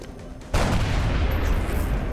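Gunfire from the video game XCOM Long War erupts as a sudden loud blast that rolls into a sustained, booming rumble lasting a couple of seconds, with no talking.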